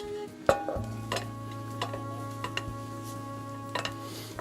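Chopped ingredients cook slowly in a little butter in a pan over a low fire, giving a soft, steady sizzle. Light ticks and taps of utensils come over a constant low electrical hum, with no voices.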